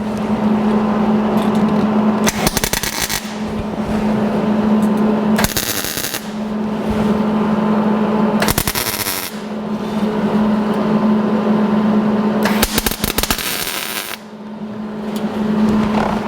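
Tack welding of metal strips onto a fuel cell in a 1949 Chevrolet gasser, four loud crackling bursts of a few seconds each, spaced apart, with a steady machine hum between them and no talking.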